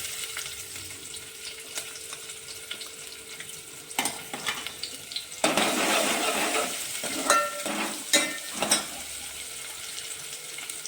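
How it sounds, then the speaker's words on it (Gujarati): Chopped onions and chillies sizzle in a hot cumin and asafoetida tempering, a steady soft fry that swells louder midway with bursts of stirring, alongside faint running-water sounds. "ડુંગળી એકદમ મસ્ત લાઈટ બ્રાઉન થઈ જાય ત્યાં સુધી તેને સાતળી લેશું"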